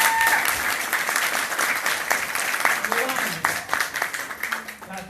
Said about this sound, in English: Let's give Louis a round of applause